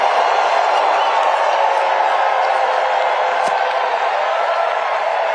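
A crowd at a political rally in Arizona cheers and roars continuously, a dense wash of voices held at steady loudness throughout with one brief sharp accent midway.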